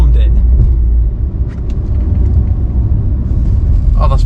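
A FIAT Panda 4x4 (169) with new differential mounts drives on the road, a loud steady engine and road rumble heard from inside the car, with people talking over it.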